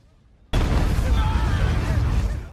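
A huge explosion from a level 9 spirit guide levels a spirit master's camp: a sudden, loud, deep blast that erupts and keeps roaring with dense, rumbling energy.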